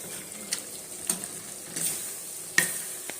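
A masala fry sizzles softly in a pan, with a few sharp scrapes and clinks of stirring breaking through the steady hiss.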